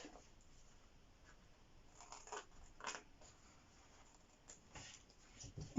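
Scissors snip through pinned 5 by 5 cm fabric squares at the corners of a reversible handbag being sewn, soft close clicks and slides scattered over a quiet background.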